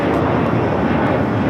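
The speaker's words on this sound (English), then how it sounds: "421 taking off to Cincinnati on the A320" Allegiant Air Airbus A320 taking off from Los Angeles for Cincinnati, a brief, loud, steady jet engine roar with broad rumbling noise and no voices.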